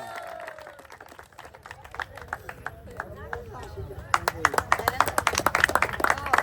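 A village crowd claps for a prize winner at an outdoor game of rolling a football past spinning-disc obstacles. Scattered claps build into denser, louder applause toward the end, with someone talking over it.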